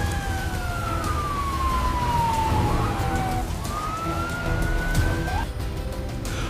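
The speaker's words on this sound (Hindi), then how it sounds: "न्यूयॉर्क की सड़कों पर एम्बुलेंस की चीखें ये गवाही दे रही थीं" An ambulance siren on a New York street wails in long rising and falling sweeps, loud and continuous over a dense rumble of city traffic.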